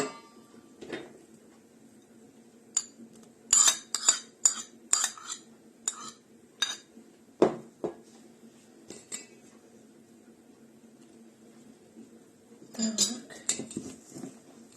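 A spoon scrapes and clinks against a bowl while chocolate cake batter is stirred with soft butter added, giving scattered metallic taps and clatters in irregular bursts, close by and fairly quiet, with no talk.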